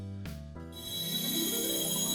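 A phone rings with a steady electronic tone, sustained high harmonic lines carrying through the clip after a couple of brief low thumps at the start, fairly loud and alone with no talking.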